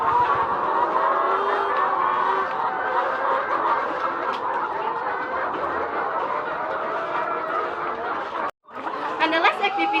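Layer chickens on a chicken farm cluck and chatter together in a dense, continuous flock noise, loud and close. It cuts out briefly near the end and then resumes.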